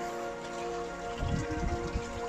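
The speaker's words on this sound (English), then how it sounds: "Pouring down with rain." Heavy rain pours down around a Toyota Hilux pickup truck after an off-road byway drive, a steady close drumming hiss with a low hum and a few heavier thuds, no voices.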